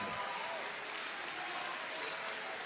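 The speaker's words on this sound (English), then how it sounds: "I want a big applause for these two giants" A crowd at a fight event applauds steadily, a dense wash of clapping that holds at an even level throughout.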